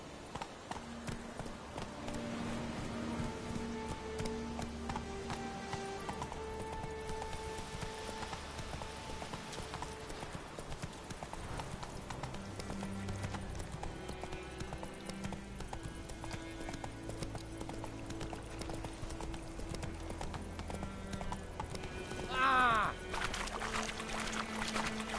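Roach, a horse in The Witcher 3, gallops with a rapid, continuous clip-clop of hooves under game music and ambience. A voice speaks over the hoofbeats.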